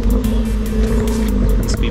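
A Honda Civic EG hatchback gives off a loud, steady engine drone close by, a brief sustained rumble with a strong, even tone.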